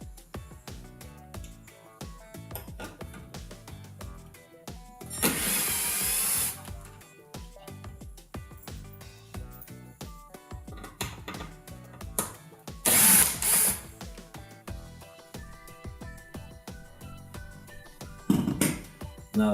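Power screwdriver work backing Phillips screws out of a GE oven's main control board: short whirring bursts at close range, punctuated by clicks and handling noise, with no speech.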